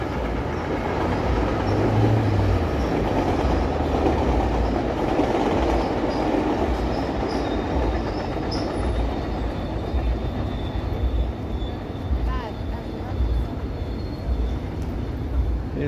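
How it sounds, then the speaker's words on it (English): A train rolls past in downtown Toronto on a Sunday evening, its steady broadband rumble filling the whole stretch loud and continuous with a low-frequency drone, a faint high whine riding above the passing cars. "Okay, there's a train."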